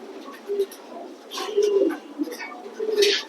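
Caged pigeons, including a female, give low throaty coos in several short bursts close by, with rustling and brief voice-like sounds scattered in between.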